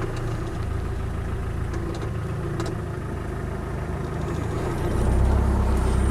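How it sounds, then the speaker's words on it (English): A Land Rover Defender 90 300TDi diesel idles through a special exhaust, a steady low rumbling chug heard close and alone, growing a little louder and deeper near the end. "it's got a slightly special exhaust on this one, so actually pays to hear it."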